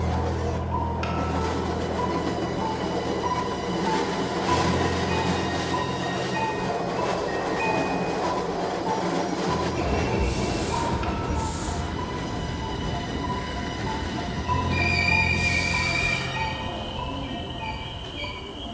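A train running on rails as a horror-story sound effect: a continuous rumbling roll with rhythmic wheel clatter and brief high metallic squeals, loud and steady throughout.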